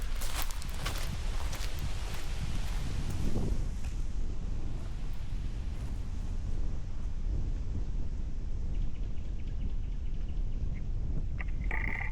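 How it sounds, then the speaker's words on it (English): Loud, constant wind buffets the microphone on an exposed hilltop house site with a heavy low roar and rustling, unbroken throughout. "It's really windy up here today and it's blowing my camera over."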